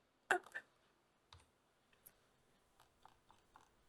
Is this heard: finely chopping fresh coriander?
no